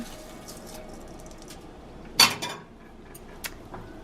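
Rice dropped into a pot of boiling water and stirred with a metal utensil: one sharp clinking scrape against the pot midway over a low bubbling hiss, then a softer tap, with no talk.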